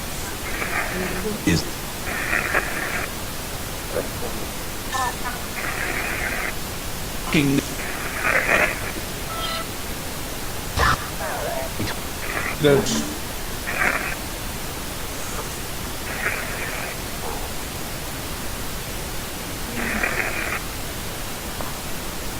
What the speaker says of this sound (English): pink noise generation. That's where we're at now.